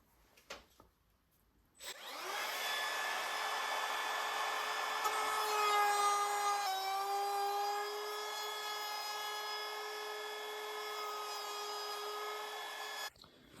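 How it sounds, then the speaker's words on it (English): A power router cuts a joint in wood for a wooden rowboat rebuild, spinning up with a whine and holding a steady high-pitched cutting drone for about eleven seconds before stopping abruptly. "I know my router will be cutting at this exact spot"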